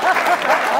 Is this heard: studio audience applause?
yes